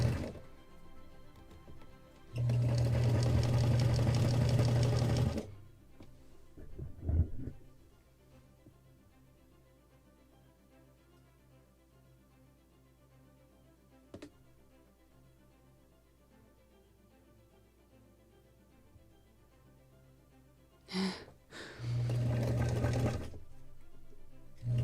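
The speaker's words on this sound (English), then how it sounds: "sewing machine, this is very important part for the sails" Two bursts of sewing machine stitching, each a few seconds long, separated by a long quiet stretch with faint background noises.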